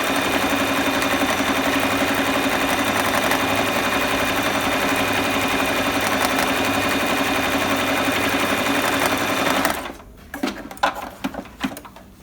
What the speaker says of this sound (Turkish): Bu şekilde nakış yapmak isterseniz gayet güzel de nakış yapar.